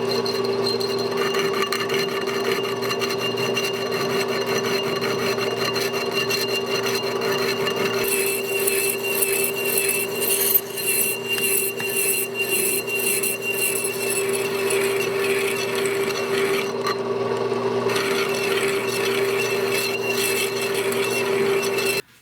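A metal disc, a snowblower wheel part, spins on a lathe as a boring bar cuts to enlarge its center hole, giving a steady whirring hum with a rasping, scraping cutting noise throughout.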